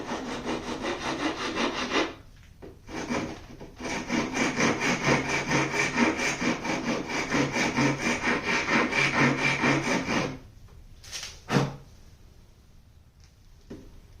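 A rasp filing wood on a cigar box mandocello build, producing loud, steady rhythmic back-and-forth scraping strokes up close, with brief breaks between bursts and a couple of isolated scrapes near the end.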